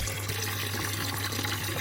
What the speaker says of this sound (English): And the water's now free flowing.